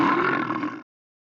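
A bear's growl in a jungle-animal sound series: a single loud, rough, sustained roar of under a second, broadband and gritty, cutting off abruptly into silence.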